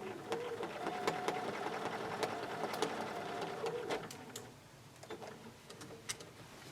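A sewing machine runs quilting stitches through a quilt block in a steady close rattling whir that fades and softens near the end, with light ticks and clicks.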